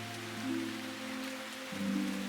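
Steady rain patters in a video game scene, a soft continuous wash with low, sustained musical tones layered beneath.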